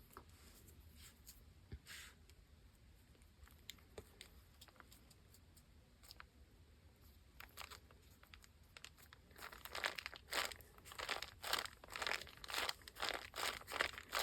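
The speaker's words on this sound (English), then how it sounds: "I like that crinkly sound that those bags make." Paper bags for a handmade journal crinkle and rustle up close, the handling faint at first and then growing louder and busier toward the end.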